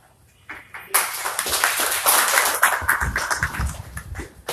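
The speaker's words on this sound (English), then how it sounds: "please hold your applause till the end of each section" Audience applause at a candidates' roundtable, a burst of clapping from a crowd that starts abruptly, stays dense and steady, then begins to thin toward the end, with no talking.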